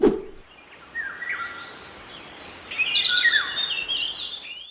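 A Eurasian golden oriole sings in Poland: short whistled, fluting phrases that rise and fall, then a brighter burst of song near the end, over a steady background hiss.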